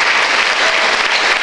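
Concert audience applauding a singer as he comes on stage, a dense, loud, continuous roar of clapping throughout.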